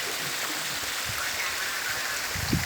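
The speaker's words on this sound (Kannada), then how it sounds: "ಈಗ ಜುಳು ಜುಳು ನೀರು ಹರಿತಾ ಇದೆ" A mountain stream at Amboli Ghat flows steadily, a dense, even rush of running water close by with no pauses, and faint low knocks near the end.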